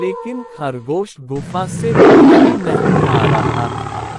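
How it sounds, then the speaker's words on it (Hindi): Cartoon lion roaring in a Hindi animated story, a loud, rough, sustained roar that follows a line of narration and then fades under a lingering growl. "थोड़ी देर बाद शेर की आवाज सुनाई दी"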